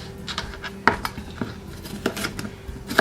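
A dull kitchen knife chops vegetables into large pieces for sofrito, giving irregular sharp taps and scrapes against the cutting board, close and moderately quiet.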